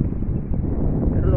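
Strong wind buffets the microphone on an Abu Dhabi shoreline at low tide beside choppy water, making a steady, loud low rumble that lasts the whole moment.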